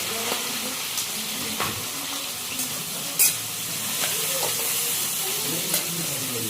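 Onion, curry leaves and green chillies frying together in hot oil for a tomato rice tempering, a steady close sizzle with occasional stirring scrapes and small pops, no voices.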